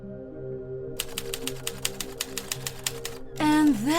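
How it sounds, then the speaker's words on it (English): Rapid clacking of typewriter keys in a quick run of strikes over a low tonal hum, followed by a rising whirring sweep at the end. "I'm just going to finish off typing up here"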